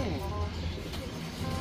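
Racing pigeons cooing as they land at a loft in Vigan, Ilocos during a pigeon race, low soft coos running steadily under ongoing background voices and noise.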